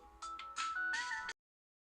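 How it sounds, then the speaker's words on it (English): A phone ringtone sounds for an incoming call, a short bright melodic tone pattern rising in steps and stopping abruptly after about a second, followed by silence. "I'm getting a phone call."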